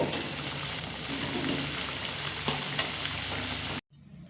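Potatoes fry in hot oil over a medium flame, a continuous close sizzle with a couple of sharp utensil clinks partway through, then the sound drops away at the end.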